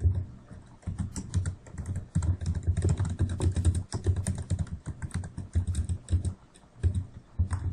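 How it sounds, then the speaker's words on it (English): Fingers type on a computer keyboard, a quick, uneven stream of close, crisp key clicks with short pauses between bursts, with no voices. "Just typing in what I wanted to say."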